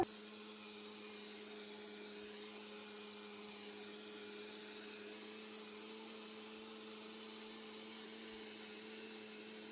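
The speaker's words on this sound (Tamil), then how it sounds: "வெந்தயத்தையும் கொஞ்சம் போட்டு அடிக்க போகிறேன் கிரைண்டரில்" A wet grinder churns soaked urad dal with fenugreek seeds for dosa batter, giving off a steady, continuous motor hum with a whirring drone that holds unchanged throughout, with no talk.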